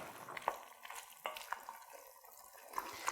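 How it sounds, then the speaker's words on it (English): A spoon stirs canned Rotel tomatoes into a pot of smoked turkey soup, making soft wet scraping and clinking with faint sizzling, close and quiet with no talking. "Stir all of this in."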